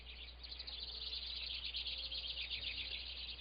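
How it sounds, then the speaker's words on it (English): A bird in a Minecraft custom NPC mod chirps and tweets in a repeated, high-pitched run against a steady low background hum of the game, with no voices. "that one bird kind of attacks them every now and then"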